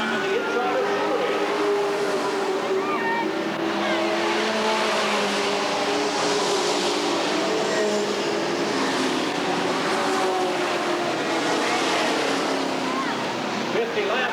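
Stock race cars, including a number 4 Pontiac and a number 1 Camaro, roaring around Redwood Acres Raceway in a continuous loud engine drone, with an announcer talking over the whole stretch.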